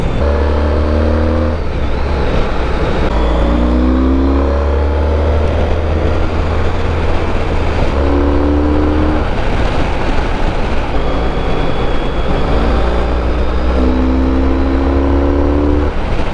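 The engine of a Honda ST1300 Pan European touring motorcycle pulls hard and loud through repeated accelerations, its pitch rising in several climbs with brief drops as the gears shift, over steady wind and road roar while riding, with no talking.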